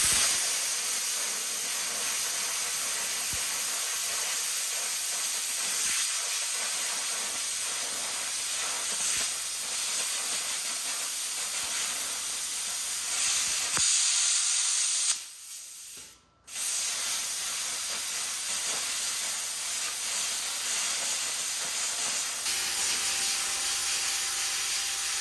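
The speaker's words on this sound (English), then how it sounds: "And then I will rip them with the plasma torch" A plasma torch cuts steel for a DIY lawn trailer with a loud, steady hiss that roars on for about twenty-five seconds. The hiss cuts out sharply for a moment, then resumes at full strength.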